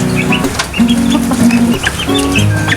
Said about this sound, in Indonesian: Sama juga, itu ayam batik, itu juga ayam batik.